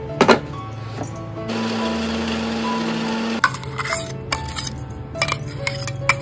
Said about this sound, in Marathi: तर यांना आपण मिक्सर मध्ये वाटून घेतोय.